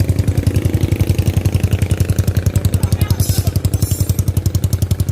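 Motorcycle fitted with a loud Jame Racing aftermarket exhaust idles with a deep, rapid, steady thumping pulse, close and loud throughout, with a brief higher rasp midway.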